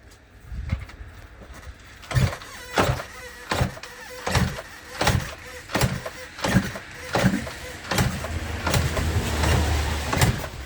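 A Yamaha RD350LC two-stroke motorcycle engine laid up for 29 years is being kicked or cranked over repeatedly, giving about a dozen regular, loud churning bursts close by that never catch and run.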